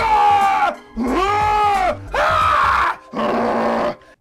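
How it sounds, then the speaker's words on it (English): A movie scream artist performs four separate screams in a row, each about a second long with short gaps between, loud, close and strained, with groaning, bleating quality and shifting pitch. "My scream isn't just noise, it's an acting burst."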